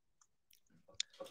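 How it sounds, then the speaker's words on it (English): Dog chewing on a toy, quiet close-up with soft irregular gnawing and clicking bites, a few sharper crunches toward the end, heard alone without talk. "That's my dog chewing on a toy."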